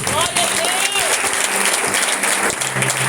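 A church congregation at a Holy Communion service claps loudly and steadily all the way through, a dense wall of hands with a voice rising over it briefly.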